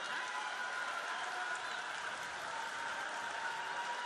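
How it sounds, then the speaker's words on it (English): Iowa fans applauding in a basketball arena during an Iowa versus Louisiana game, a dense, even wash of distant crowd clapping that holds steady throughout. "Kriener finds an applause from the Iowa fans"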